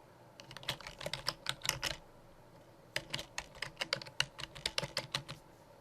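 Instructions are typed on a computer keyboard in two quick bursts of close, crisp key clicks separated by a short pause.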